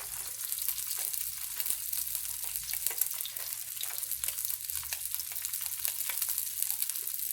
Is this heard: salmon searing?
yes